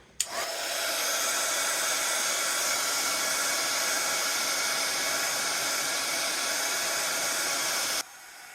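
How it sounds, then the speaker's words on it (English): A heat gun blows hot air to set embossing on a Christmas craft background, a steady loud whooshing roar that starts abruptly and holds for about eight seconds before cutting off, with no talking. "We'll come back in with your heat gun."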